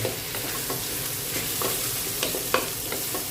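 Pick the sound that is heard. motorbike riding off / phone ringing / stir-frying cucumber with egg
stir-frying cucumber with egg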